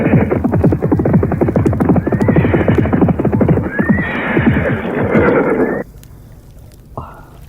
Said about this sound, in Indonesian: Pasukan prajurit berkuda menuju kemari.